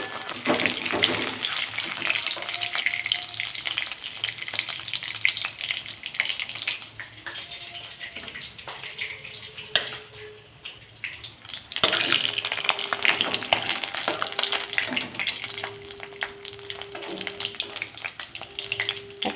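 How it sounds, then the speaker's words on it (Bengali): Oil sizzles and crackles steadily as tengra fish fry, with occasional clinks and a brief sharp knock partway through; no one speaks. "ট্যাঙা মাছগুলো এখানে ভালো করে আমি ভেজে নিচ্ছি"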